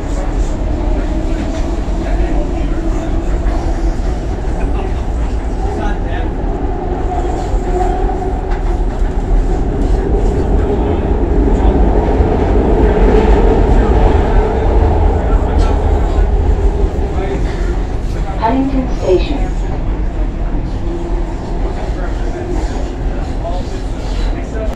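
A SEPTA Frankford Line subway train to 69th Street rumbles loudly and continuously, with a steady low roar, faint squeals and rattling throughout.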